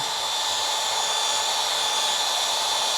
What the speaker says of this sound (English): I'm actually just gonna use the polish with the drill brush.